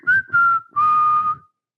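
A person whistles three close, airy tones, two short then one longer held note that wavers slightly and fades away at the end, loud and alone.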